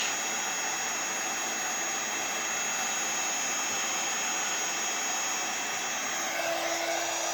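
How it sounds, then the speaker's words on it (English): Heat gun blowing steadily to melt embossing powder on a Christmas card, a continuous airy whoosh held close and constant throughout, with no talking. "we're just going to hold that heat gun still until that embossing powder melts and changes"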